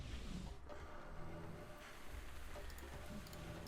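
Steady rain in the video game QUENCH hisses in a dense, even wash with scattered light pattering, constant and moderately loud throughout.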